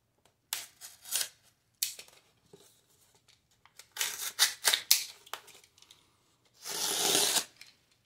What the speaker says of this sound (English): Let me slip the paper out first.